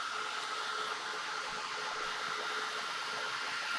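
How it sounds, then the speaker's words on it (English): A hair dryer blows a steady, loud whooshing roar over water-soluble paint on a pumpkin, unbroken from start to finish. "So I'm going to dry this real quick."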